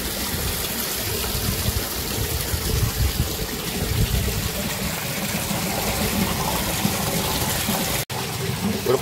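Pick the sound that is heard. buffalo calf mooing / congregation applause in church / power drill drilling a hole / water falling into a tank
water falling into a tank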